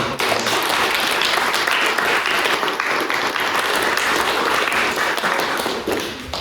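A debating-house audience gives a full, dense round of applause after a debate on capitalism, loud and sustained with no pauses.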